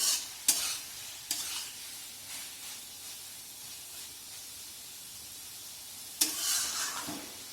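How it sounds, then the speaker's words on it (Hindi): Healthy bottle gourd sabzi with fenugreek and red chilli is roasted over high flame in a pan. It gives a quiet steady sizzle with a few sharp spatula scrapes and hissing bursts, close and without talking. "थोड़ा फ्लेम को तेज कर दे और भून ले 2 मिनट"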